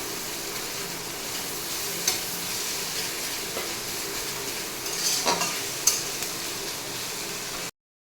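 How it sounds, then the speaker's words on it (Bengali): Chopped onion and garlic fry in oil for a prawn and taro-stolon dish, a steady close sizzle with a few sharp utensil clinks and stirring scrapes, ending abruptly. "পেঁয়াজটা রসুনটা ভালো করে লাল লাল করে ভেজে নেবে একটু"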